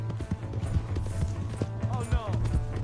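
Horse hooves clip-clop steadily in Red Dead Redemption 2, a regular thudding gait running under a voice and other game sounds.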